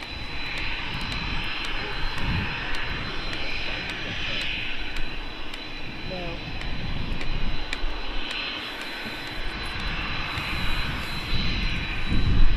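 A Qatar Airways jet departs Manchester Airport, its engines a sustained roar that rises and falls slightly over the whole span, fairly near, with no talk.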